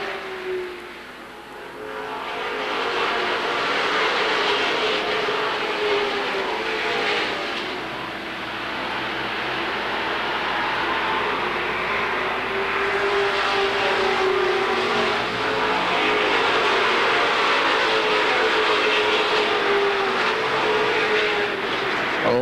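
Stock cars racing around Seekonk Speedway in 1984, a continuous loud roar of engines from a pack of cars running in heavy traffic, rising and falling slightly as they circle the track.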